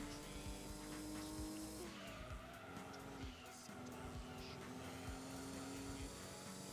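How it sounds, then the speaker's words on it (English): Race cars roar and skid through the corkscrew in Gran Turismo 2, engines droning continuously with intermittent tire squeals, heard as a steady, dense game soundtrack without talk. "I'm seeing a lot of cars spinning at the corkscrew here"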